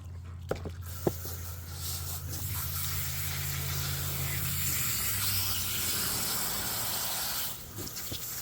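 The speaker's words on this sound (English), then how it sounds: "next we're going to hose this guy out" Water from a hose sprays steadily into and over a freshly butchered chicken carcass, a continuous hissing gush close by that shifts in tone midway and cuts off near the end, with a few sharp knocks at the start.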